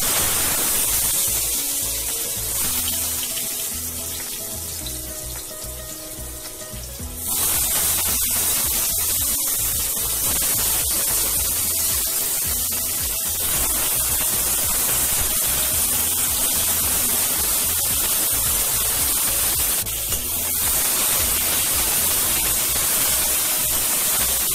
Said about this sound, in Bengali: ভালো করে লাল লাল করে আলুটা ফ্রাই করব